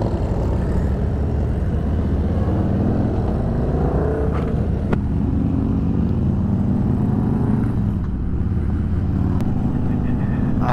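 Harley-Davidson Road Glide with a 130 ci engine riding on the road, its steady broadband engine and wind roar constant and close throughout, with no speech.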